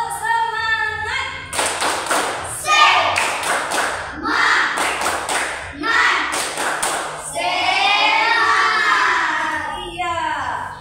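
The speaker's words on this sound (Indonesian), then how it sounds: "Semuanya tepuk semangat." A group of schoolchildren in a primary school religion class performs the rhythmic 'tepuk semangat' spirit clap, sharp claps and thumps in quick bursts mixed with children's voices chanting along, fairly loud and close.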